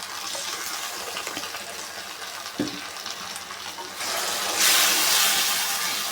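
A sauce of red chilli and soy stirs in a pan for gobi made from leftover bonda: a steady close hiss and sizzle with scraping, which grows louder and brighter partway through.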